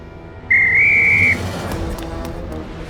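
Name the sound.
whistle being blown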